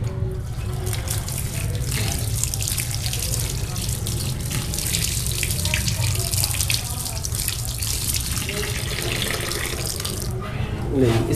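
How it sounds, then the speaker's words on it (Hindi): Water pours steadily into a fish fry masala mix in a commercial kitchen, a continuous splashing stream lasting several seconds with a voice talking faintly underneath. "इसके बाद इसमें पानी ऐड करेंगे"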